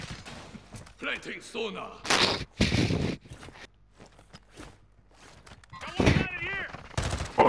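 Video game shooter gunfire: sharp, loud shots in scattered bursts, some dense, mixed with footsteps and voices shouting callouts between and over the firing.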